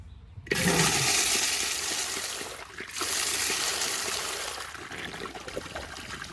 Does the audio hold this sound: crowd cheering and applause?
no